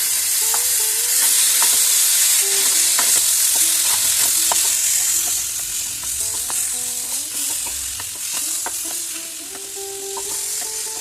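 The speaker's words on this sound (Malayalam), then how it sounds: "നമുക്ക് തക്കാളി ഇട്ട് കൊടുക്കാം കേട്ടോ" Chopped tomatoes tossed into well-fried masala for a tomato egg curry, giving a steady close sizzle throughout with repeated spoon scrapes and stirring clicks against the pan.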